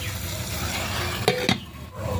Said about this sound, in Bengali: এবার কড়াইতে সিম আর আলুগুলোকে দিয়ে দেবো, জল দিয়ে দেবো।